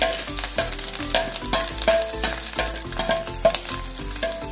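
Grated coconut roasting in a pan for Kerala chakka erissery, jackfruit curry, fries with a steady close crackling sizzle, punctuated by repeated scraping stirs and clinks of a spoon against the pan.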